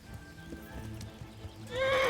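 Horse hooves clip-clop and a horse neighs in the video game Kingdom Come, with hoofbeats under a low murmur before a loud whinny rises near the end.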